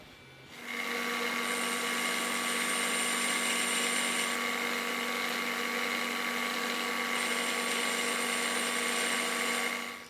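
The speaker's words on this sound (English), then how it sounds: "So first we got to machine them to clean them up, and then we have to machine them to this width here." A milling machine cutting steel parts for a V block clamp in a workshop: a steady, high whining cut with a constant motor hum, starting abruptly and running unbroken before tailing off at the end.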